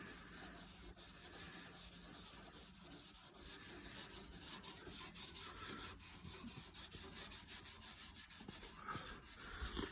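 Super fine steel wool and polish rubbed over the finish of an old car, a steady, close scratchy scrubbing in continuous strokes with no talking.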